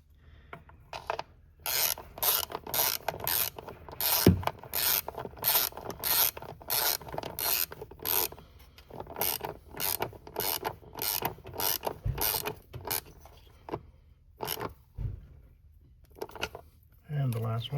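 Spark plugs being tightened with a ratchet on a 2022 Ford Maverick 2.0, with rhythmic close clicking strokes that repeat in quick bursts and a few mechanical clunks.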